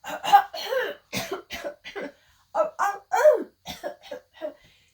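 A voice imitates a dog's cough: a string of short, rough, hacking bursts with brief pauses, close and fairly loud.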